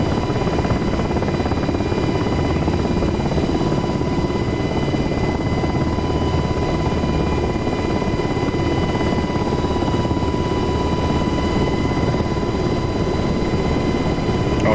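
Apache attack helicopter in the DCS World flight simulator, its rotor and turbine drone steady and loud throughout, a continuous close cabin-level roar with no talk.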